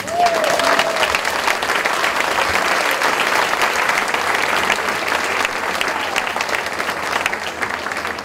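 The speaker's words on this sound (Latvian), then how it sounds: "Aplausi vēl vienreiz skan." Audience applause at a school anniversary concert, a dense and steady wash of clapping that stays loud throughout, with a brief higher tone near the start and a low hum entering partway through.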